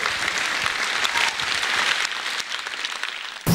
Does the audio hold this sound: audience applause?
yes